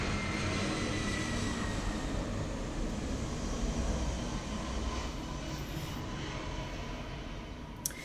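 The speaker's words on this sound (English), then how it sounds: "Here comes a plane." A steady broadband roar of an airplane passes overhead, sustained and fairly even throughout without any talking.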